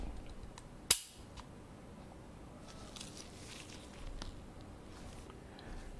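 An EAA Tanfoglio EA 380 pistol dry fires once its safety lever is off, giving a single sharp, close metallic snap early on, followed by faint handling noise in a quiet room.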